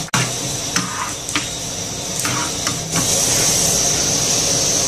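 Cashews, raisins and crushed cardamom fry in hot ghee for sweet pongal, a steady hiss and sizzle with a few sharp pops and clicks near the start, growing denser and louder toward the end.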